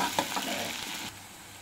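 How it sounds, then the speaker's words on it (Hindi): Onions frying with cumin in a kadhai, heard as a short, soft sizzle with a stir or scrape near the start that fades after about a second. "उसके बाद हम प्याज डाल देंगे, प्याज को ब्राउन होने तक भून लेंगे।"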